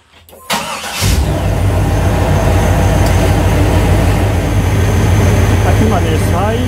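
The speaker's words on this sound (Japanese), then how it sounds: "そうしたらエンジンかけてみますね" A car engine cranks and catches after a brief clatter, then settles into a loud steady idle during a DIY air-conditioning gas charge, with voices faintly over the running engine.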